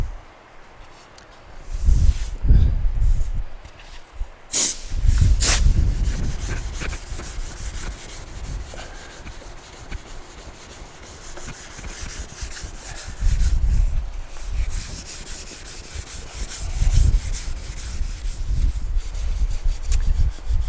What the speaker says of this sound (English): what this little pad is good for, sanding stuff like this